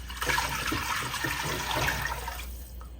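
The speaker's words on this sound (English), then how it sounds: "To take things a little further, we're going to add our beef broth." Beef broth pours into a stew pot of Guinness beef stew in a steady, splashing gush for about two and a half seconds, then cuts off, leaving quiet room tone; no one speaks.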